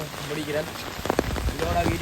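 Heavy rain in Sri Lanka pours steadily on surfaces throughout, a dense continuous hiss with scattered drop impacts, while voices murmur faintly underneath.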